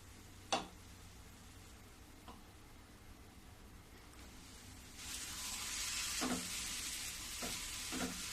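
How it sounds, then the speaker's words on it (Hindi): Stuffed bitter gourd masala sizzles steadily in oil in a kadai, a soft hiss that grows fuller midway, with occasional scraping stirs of a spoon against the pan. "इसको खूब अच्छे से भूंजूंगी जब तक ये कढ़ाई में तेल नहीं छोड़ेगी"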